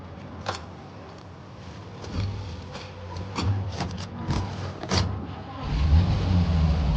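A car's engine hums and shifts in a period 1930s city street scene of the Mafia Definitive Edition video game, low rumble rising and falling with several sharp clicks and thumps, growing louder toward the end; no talk.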